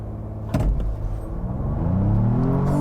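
A 2022 Ford Bronco 4-door Wildtrak in sport mode and four-wheel drive launching hard, a thud then a deep engine roar rising steadily in pitch as it accelerates, loud and close from inside the cabin.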